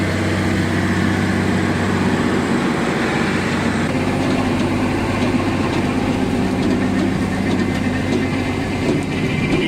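A tractor engine runs during the end-of-harvest work on a large Saskatchewan grain farm, a loud, steady low drone with a constant mechanical hum throughout, close by and with no voices.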